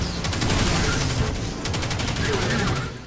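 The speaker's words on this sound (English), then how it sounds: "I should be using that submachine gun. And just never stop pressing the fire button." Dense, continuous submachine gun fire in the Destiny 2 beta, rapid repeated shots over a loud game soundscape with no pauses.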